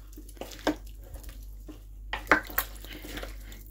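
A spoon stirring food in a slow cooker sends a few soft, close scrapes and clinks against the pot over a steady low hum, with no voices.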